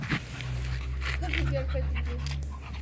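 A beagle pants close by in quick, breathy rhythm, with faint whimpering and someone talking over it throughout.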